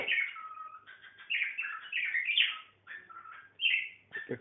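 A budgie chirps and warbles in quick, bright bursts, close and continuous, with short pauses between phrases.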